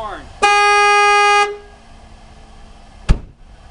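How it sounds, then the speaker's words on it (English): Standard car horn on an old red Ford truck with a black hood, one loud steady honk lasting about a second, followed by a short thump, with no voices. "This is the old red Ford, by the way. Black hood. Here's your normal horn."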